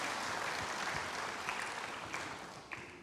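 A church congregation claps during worship, a fairly faint, even wash of applause with a few sharper individual claps standing out, heard at a distance.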